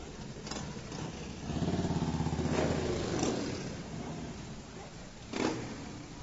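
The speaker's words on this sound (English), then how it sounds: "it's the Harleys coming through right now" Harley-Davidson motorcycles ride past at a Memorial Day parade in Tiffin, Ohio, a throaty engine rumble rising and swelling as they pass, heard outdoors at moderate distance with crowd noise.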